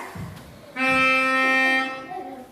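A loud, bright melodica note sounds once, a full reedy tone sustained for just over a second, then drops away into a quieter background.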